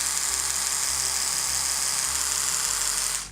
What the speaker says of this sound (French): On entend que le moteur tourne de façon moins bruyante.